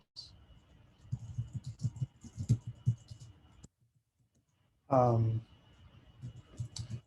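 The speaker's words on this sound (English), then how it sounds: "you would type the very same commands that I'm typing to this terminal into your Anaconda prompt on Windows" Keys click on a computer keyboard as commands are entered at a terminal, a run of quick, light taps close by, with talking over and around them.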